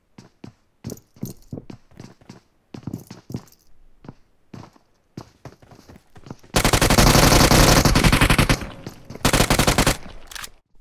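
Gunfire from the PUBG video game: a series of separate single shots and short bursts, then two long, loud sustained volleys of automatic fire, sharp and close with brief gaps between them.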